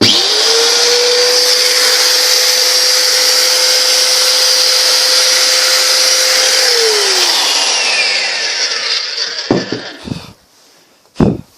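A Bosch 1 kW angle grinder with a 125 mm disc spins up sharply and whines at a steady high pitch for about seven seconds, then winds down, loud and close, with a few knocks at the end.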